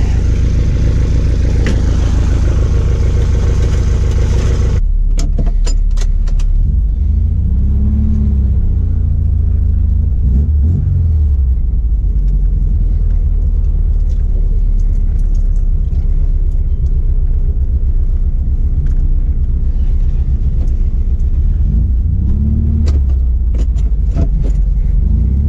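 A Volkswagen Type 3 engine idles as it warms up, giving a loud, steady, close rumble with a rough clattering edge and a few surges in speed.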